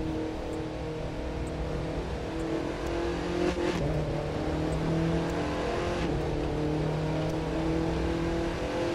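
An Audi TT RS Stage 4 engine in a racing video game roars steadily as it accelerates, sustained and loud throughout with shifting pitch and a few brief clicks, no talk.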